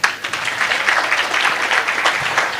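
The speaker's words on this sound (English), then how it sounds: "can you clap for him?" An audience at a Rotary president-elect learning seminar claps for a newly named president-elect, steady dense applause filling the room for a few seconds without talk over it.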